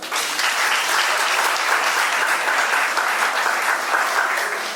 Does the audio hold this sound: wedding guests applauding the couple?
yes